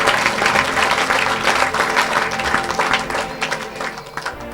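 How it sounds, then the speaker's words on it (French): A church congregation breaks into loud, sustained applause, dense clapping filling the space without letup and thinning slightly toward the end. "Put your hands together."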